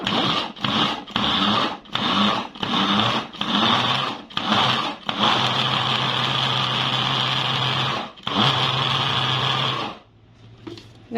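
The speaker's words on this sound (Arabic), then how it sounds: "حطيت دلوقتي كده معايا البصل في قلب الكب اهو، هضربه كده اهو" An electric food chopper grinds onion in short pulsing bursts, then runs in longer continuous whirring stretches, loud and close, before stopping with a few faint clicks.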